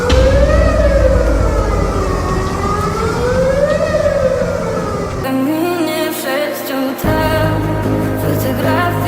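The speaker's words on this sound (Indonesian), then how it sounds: "Ada sirine guys, siren ya, siren" A loud siren wails nearby in rising and falling sweeps during sudden flooding in Selangor, then cuts to a different steady tone and mixed background noise.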